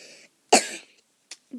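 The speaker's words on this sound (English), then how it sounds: "I'm sorry, I coughed." A single sharp cough sounds close by, with faint bits of breath and voice just before and after it.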